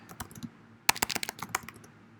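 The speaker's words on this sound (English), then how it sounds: "I was typing the title" Keys clatter on a computer keyboard while a question title is typed into a web app. The taps come in an irregular burst, close and fairly quiet, with no one talking.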